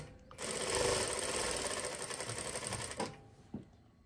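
A Brother S7180A813 direct-drive lockstitch industrial sewing machine runs in a steady, fast mechanical whir for about three seconds, then stops, leaving a couple of faint clicks.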